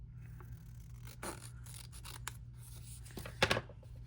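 Scissors cutting paper in a planner make a few quiet snips and rubbing slides, with a sharper, louder cut near the end over a faint steady hum.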